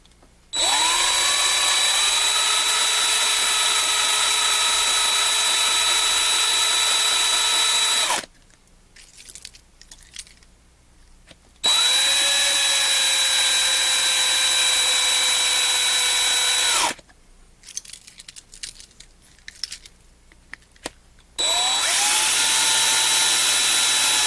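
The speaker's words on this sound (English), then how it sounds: "All right, let's drill this thing out." A power drill bores out a pink race car window net in three long sustained whining bursts separated by short pauses with faint handling noises, loud and close with no talk.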